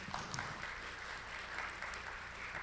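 Panel discussion audience at a construction technology forum gives applause, a faint, distant wash of many hands clapping that stays steady and soft for a few seconds.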